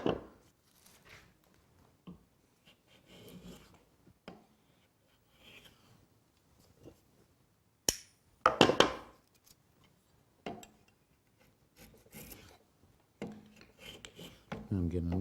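A skew block plane shaves wood in a few short, scattered rasping strokes, mostly soft and close with a couple of louder bursts near the end.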